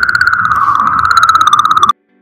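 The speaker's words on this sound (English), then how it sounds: "That is the sound of the Churyumov-Gerasimenko Comet, picked up by the Rosetta spacecraft" The sound of comet Churyumov-Gerasimenko, picked up by the Rosetta spacecraft: a steady warbling tone threaded with rapid pulsing clicks, loud and alone, lasting about two seconds before cutting off abruptly.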